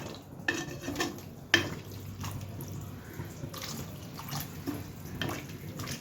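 Water goes into a pan of tomato and potato curry, with splashing and dripping, a sharp clink partway through, and quieter trickling and stirring afterward.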